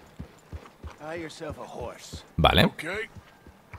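Horse hooves clip-clopping in Red Dead Redemption 2, a regular, fairly close beat of steps under someone talking in Spanish.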